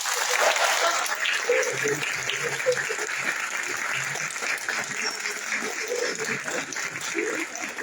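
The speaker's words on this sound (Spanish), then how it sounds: "Un fuerte aplauso, por favor." An audience at a university architecture event on universal accessibility gives strong, sustained applause, loud at first and gradually easing, with faint voices underneath.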